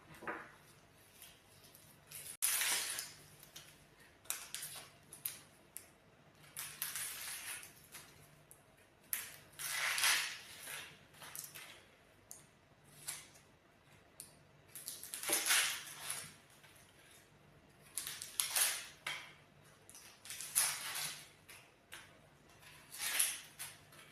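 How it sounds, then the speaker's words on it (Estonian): Red onions are peeled and chopped on a board, giving irregular bursts of close, crisp crackling skin and knife taps separated by short pauses, with no talking over them. "Nii et ma hakkan neid nüüd koorima ja tükeldama."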